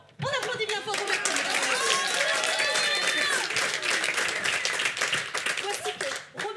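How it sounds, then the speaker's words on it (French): Cabaret audience claps loudly for a magician's assistant, a brisk crowd of hands starting abruptly and holding steady for several seconds amid scattered voices and cheers. "On applaudit bien fort Roberto."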